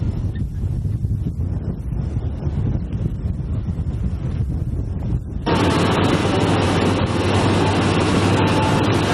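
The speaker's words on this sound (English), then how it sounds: "It's windy here, so you probably can't hear me talking" Strong wind buffets the microphone in a steady, roaring rush in the Badlands, growing louder and denser partway through as the gusts intensify.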